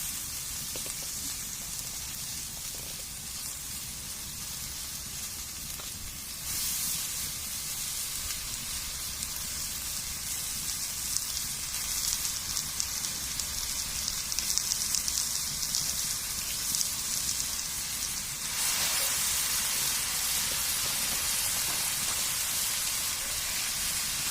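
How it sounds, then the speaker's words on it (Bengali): Chickpea greens and spinach hitting a hot pan already seasoned with turmeric, giving a steady, fairly loud hiss and crackle of frying that runs the whole time and grows brighter partway through. "এবার শাকটা দিয়ে দেওয়া হচ্ছে"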